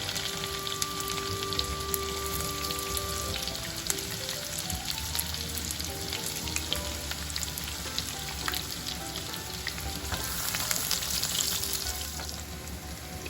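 Chopped onion frying in oil in a pan, a constant crackling sizzle with soft stirring scrapes, close and steady throughout without any talk.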